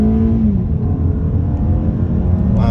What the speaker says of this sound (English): So right here on the gas